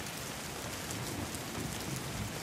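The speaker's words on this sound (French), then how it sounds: "La pluie, bien que tiède, me cinglait." Steady rain pattering down in a dense, even hiss of drops with a slight low rumble beneath, continuous and close, no voices.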